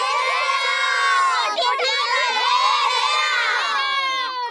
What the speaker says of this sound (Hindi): चलो चिल्लाओ